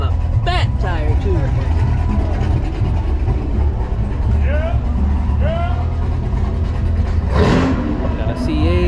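Dodge Hellcat engine revving at a night car meet at TX2K, a loud V8 roar with rising rev pulses mixed into crowd chatter, cheering and other engines nearby.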